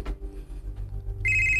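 A cellphone rings in a Bisaya-language radio drama, a steady electronic ring tone starting near the end, loud and clear over low background music.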